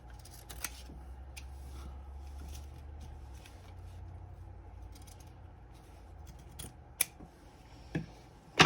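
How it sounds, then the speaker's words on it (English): Scissors snip the corners of a paper farm journal cover at close range, quiet scattered cuts over a hushed room, with a few sharper clicks near the end. "So I'm just cutting my corners."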